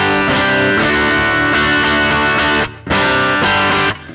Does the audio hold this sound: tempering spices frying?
no